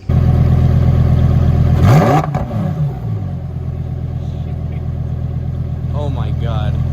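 A car engine revs hard, climbing in pitch and swelling loud as it sweeps past close by, then settles into a steady engine drone with faint voices near the end.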